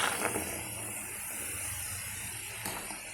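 Homemade herbal coconut oil, made for hair growth, simmers in a pan, giving off a steady, dense hiss and sizzle that stays even throughout with no voices.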